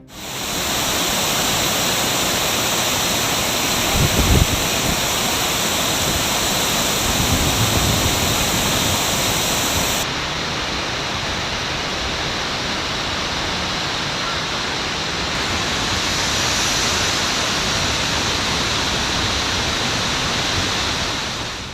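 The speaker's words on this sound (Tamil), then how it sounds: "குற்றால மெயினருவி ஐந்தருவி பழைய குற்றாலம் அருவிகளில் ஆறாவது நாளாக வெள்ளப்பெருக்கு குறையவில்லை" Courtallam waterfalls in flood after heavy rain roar as a dense, continuous wash of white noise, loud and unbroken throughout with no voices over it.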